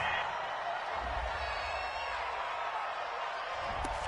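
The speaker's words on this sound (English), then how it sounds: "Well, the crowd doesn't like that." A stadium crowd in the video game Madden 20 booing and roaring in displeasure, a broad steady wash of noise with faint talk over it.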